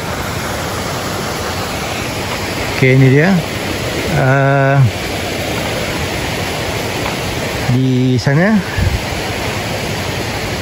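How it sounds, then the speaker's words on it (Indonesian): Muddy river water flows steadily down from the hill after rain beside a riverside campsite in Sungai Sinju, Simpang Pulai, Perak, a constant broadband rush under brief bursts of nearby talk. "So ini air betul-betul daripada atas bukit"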